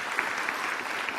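A studio audience on an Indonesian talk show claps in a brief, dense burst of applause, steady and close, with no voices on top.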